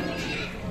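A horse whinnies close and loud, a short quavering neigh lasting under a second.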